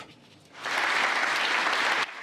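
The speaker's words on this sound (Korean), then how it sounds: "역사적 유대를 강조하는 연설에 박수가 터져나왔고" After Secretary Marco Rubio's speech on ties with Europe, audience applause bursts in abruptly, holds as a steady wash of clapping for about a second and a half, then cuts off sharply.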